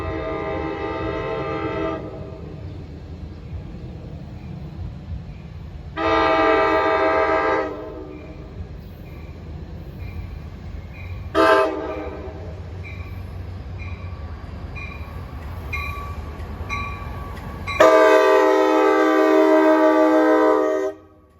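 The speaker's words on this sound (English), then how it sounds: "12:48, the gates are going down for train 1626, Spring Valley to Hoboken." An NJ Transit train on the Pascack Valley Line passes a level crossing, sounding several long, loud horn blasts separated by pauses, with rumbling wheels and rail noise continuing between them.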